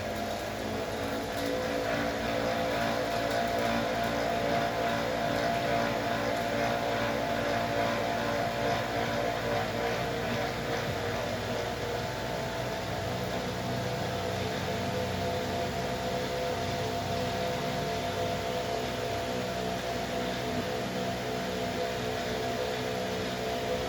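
A steady, loud motorised whir from a cotton candy (harum manis) machine on a test run, droning continuously without a break and with no voices.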